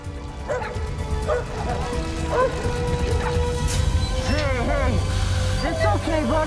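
A dog yips and whimpers in high, wavering cries, with a few short barks, close by amid background noise and movement during a rescue from a fire.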